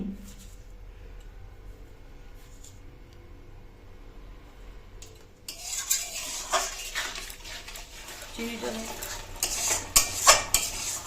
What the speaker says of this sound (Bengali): এবার দেবো টক দইটা, একটু নাড়িয়ে নিয়ে